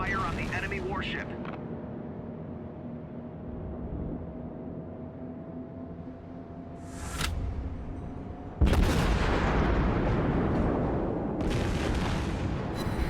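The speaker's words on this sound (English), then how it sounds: "Concentrate fire on the enemy warship." Warship main guns firing in the naval combat game World of Warships, a sustained engine and sea rumble broken by heavy booming salvos, with someone talking over the battle.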